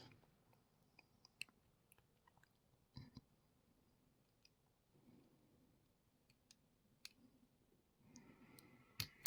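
Homemade picking tools work a Chubb Battleship lever lock, giving faint, scattered metallic clicks and ticks spread across the span, with a slightly denser scraping patch near the end.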